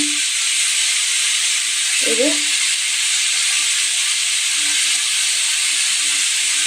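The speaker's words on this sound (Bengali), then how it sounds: "শুকনো লঙ্কা দিয়ে আমি আলুটা ভাজছি" Potatoes fry with dried red chilli, salt and turmeric in a pan, giving an even, close sizzling hiss throughout, with a brief faint voice sound partway through.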